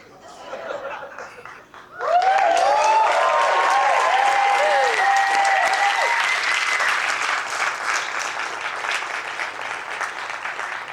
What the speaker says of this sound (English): A bigger applause to Valerie, who shared this story.